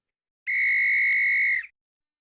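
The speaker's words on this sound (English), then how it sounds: "there you hear the whistle" A single loud, steady whistle blast held for about a second, clear and alone with nothing else around it.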